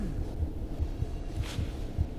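A low, muffled heartbeat from the horror game Among the Sleep, with soft paired thumps repeating at a steady, fairly quick pace over a dull background hum.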